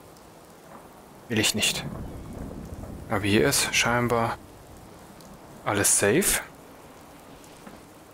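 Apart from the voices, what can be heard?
rain and thunder in video game Fallout 4 VR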